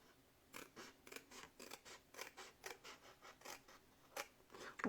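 Scissors snip through folded paper in a quick series of crisp, separate cuts with a steady stop-start rhythm, close up and fairly quiet, with no talking over them.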